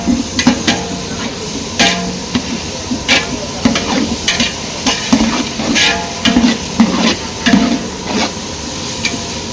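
Chopped vegetables sautéed in a hot pan for salna at a bun parotta shop, with steady loud sizzling and frying hiss broken by repeated scraping and clanking strokes of a ladle against the pan, no voices.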